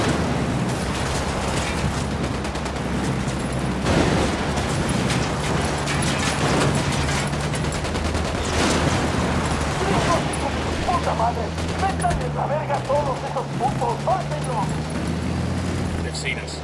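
Ghost Recon firefight with rapid bursts of gunfire and booming impacts throughout, dense and loud over a low engine-like drone, with voices talking over the shooting.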